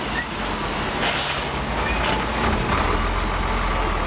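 Trucks and construction traffic rumble steadily at a large, busy intersection, a dense low roar with faint hissing air brakes and distant high beeps, loud and continuous with no voices.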